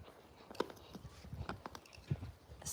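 Comet, a year-old young horse, moves near eight-week-old puppies, faint scattered hoof clops and shuffling close by under low background noise, with a few brief sharper knocks.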